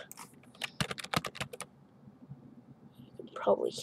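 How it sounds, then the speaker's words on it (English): A computer keyboard is typed on nearby in a quick burst of sharp clicks. A short pause follows, then a brief voice near the end. "You can probably hear the clicking."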